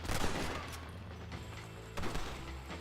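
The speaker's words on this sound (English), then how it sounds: "So I thought you're shooting everyone, Ricketts." Rapid gunfire from a Red Dead Redemption shootout, a dense burst of shots and booms in the first half that eases off, then another loud volley near the end, close and with no talk over it.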